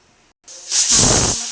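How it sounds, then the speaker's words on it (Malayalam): A sharp hiss of steam bursts out and builds into a loud, sustained whistling rush that slowly tapers off, heard alone and up close. "കുക്കറിനകത്ത് ഒരു ഷൂള അടിച്ചു."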